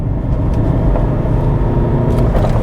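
Lexus IS engine at full throttle in second gear, revving from low RPM with a loud, steady, rumbling drone heard from inside the car.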